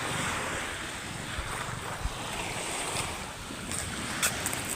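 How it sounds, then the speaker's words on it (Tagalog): Steady wash of sea waves breaking along a rocky shoreline, a continuous broadband roar with wind buffeting the microphone and small splashes rising now and then, no voices. "Yung dagat mabato, oh."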